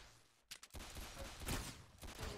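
Gunfire in Roblox Arsenal during a one-on-one match, a few quick bursts of shots with a sharp crack near the middle, heard fairly quietly over game ambience.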